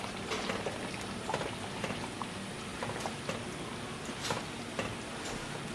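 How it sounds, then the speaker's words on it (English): Beef stew with dried parsley flakes being stirred in a pot, a soft bubbling and clicking of the spoon that runs steadily throughout at low volume with no talking. "Mix it well."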